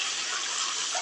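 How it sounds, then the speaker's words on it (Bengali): Water is poured into a cooking pan with white mustard paste: a brief, steady, soft gush of liquid lasting about a second, with no voices. "এবারে আমি একটু জল দিয়ে দেবো"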